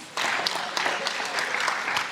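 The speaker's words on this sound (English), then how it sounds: "A round of applause for Dr." Audience applause for Dr. Donald Peterson at a university career talk: brief, steady clapping from a seated crowd that swells abruptly and holds for about two seconds.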